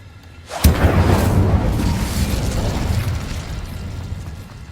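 A Bombarda blast spell cast in Hogwarts Legacy lands as one sudden, loud explosive burst followed by a long rumbling, crackling debris tail that slowly fades.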